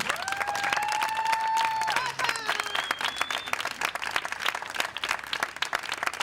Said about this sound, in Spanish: María Goñi, fuerte aplauso